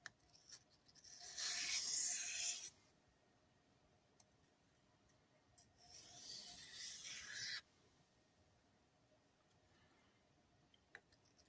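A kitchen knife is stroked across a Cheefarcuut 1000-grit vitrified diamond sharpening stone in two long, steady, gritty scraping passes of a second or more each, separated by quiet pauses.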